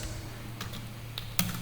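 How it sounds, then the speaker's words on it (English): Quick bursts of typing on a computer keyboard, a few sharp clicks scattered over a low steady hum, fairly close and quiet. "I shouldn't be typing here."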